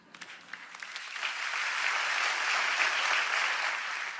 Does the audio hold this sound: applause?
yes